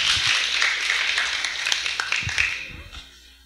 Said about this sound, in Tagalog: Pumalakpak muna ng malakas.